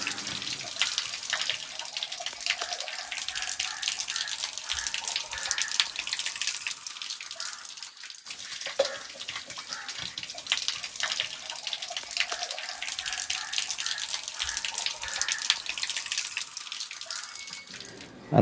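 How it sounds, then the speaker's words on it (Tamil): Spring water flows continuously from the hill at Naga Theertham temple near Madurai, a steady close splashing and trickling stream that runs without pause. "மதுரை மலையிலிருந்து என்றைக்குமே வற்றாமல் இங்கே தண்ணி வந்துக்கிட்டு இருக்கிறோம்."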